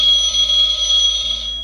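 A spooky Halloween decoration shaped like a rotary telephone rings with a steady, shrill electronic tone that holds for under two seconds, close and loud, with no talking.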